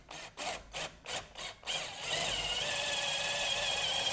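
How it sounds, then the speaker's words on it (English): A power drill works soft metal on a broken quick-connect heater hose fitting of a GM truck with a 6.5L turbo diesel, first in about six short bursts, then running continuously with a rising whine. "let's go ahead and take our drill and go ahead and start working this out"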